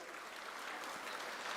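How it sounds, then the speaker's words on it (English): Brief burst of applause from an audience at a college Women's Day celebration honouring two leaders, a dense, even patter of clapping throughout. "Big round of applause"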